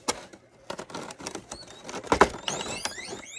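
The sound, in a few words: pet guinea pigs squeaking in the background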